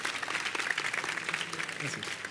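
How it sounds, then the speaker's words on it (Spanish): Audience applause at the close of a talk at a video-game retrospective event, a dense, steady wash of many hands clapping that holds at even loudness throughout. "Un aplauso, por favor."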